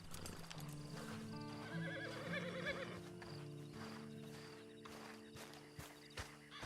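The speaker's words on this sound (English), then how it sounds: "you better get on this horse" A horse whinnies and clip-clops in the Red Dead Online game, a drawn-out neigh standing out over steady hooves and a low humming game backdrop.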